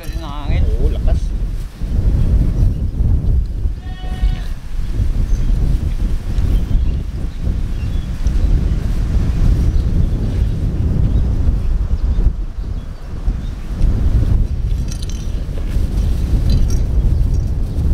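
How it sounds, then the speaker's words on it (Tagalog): Strong wind gusting outdoors at a rural Filipino home cooking spot, a steady loud broadband roar buffeting the microphone throughout, with people talking and occasional clinks underneath. "Lakas kasi ng hangin."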